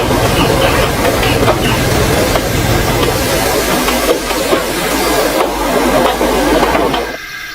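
An express train running on rails in a model-railway story, a loud continuous rumble and rattle of wheels with hiss, steady throughout before dropping off at the very end.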